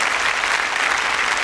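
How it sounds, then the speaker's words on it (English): An audience at a magic and escape stage show gives a helper from the crowd a big round of applause, dense steady clapping that stays loud and even with no talk over it. "Let's give Mark a big round of applause for helping me out on stage."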